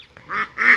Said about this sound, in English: if you're wondering why there's so much bird activity right now, it's that Tristan is getting the food.